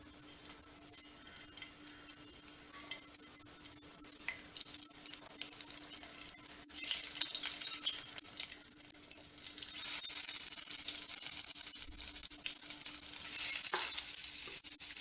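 Oil sizzles and crackles steadily in a pan as eggs rubbed with turmeric roast, growing louder and denser partway through, with occasional light scraping from stirring.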